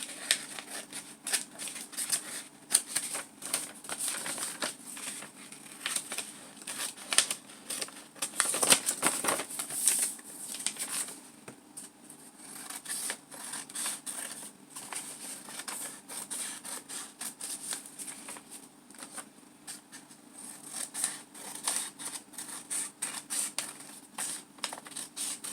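Scissors snip through a recycled plastic piece for an art project in a long run of quick, irregular close cuts and crinkles, with no voices.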